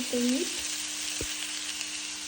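Sprouted moong beans and onion frying in a pan with turmeric and salt give a continuous soft sizzle, with a brief tonal squeak at the start and a single faint knock partway through and no voices.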